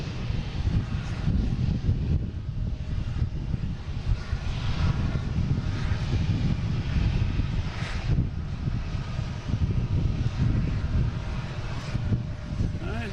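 An airliner climbing away from Boston Logan produces a heavy, steady engine roar with a strong low rumble and slight surging, fairly near and alone without speech.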